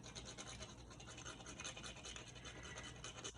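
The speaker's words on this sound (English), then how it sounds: "I have fresh nutmeg here. It's gonna grate a bit in." Fresh whole nutmeg is rubbed against a grater, making a close, continuous dry scratching rasp for a few seconds.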